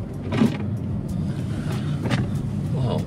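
Inside a VinFast VF8 electric car driving through a zigzag cone course, a low, steady road rumble runs under a voice.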